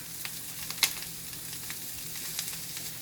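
Butter sizzles in a pan with Brussels sprouts, a quiet, steady hiss broken by small pops and one sharper crackle near the start, with no talking.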